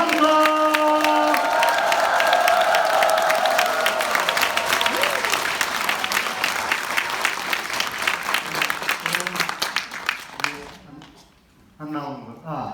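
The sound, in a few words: crowd applauding mayor's introduction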